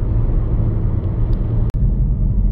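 Steady low rumble of heavy highway traffic heard from inside a moving car on a long road trip, continuous engine and tire drone with a brief dropout.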